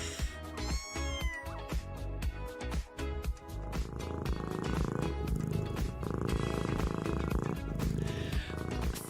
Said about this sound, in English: a cat that is like a real loud purrer